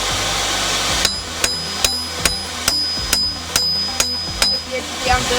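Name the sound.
hammer forging a shortsword shoulder on an anvil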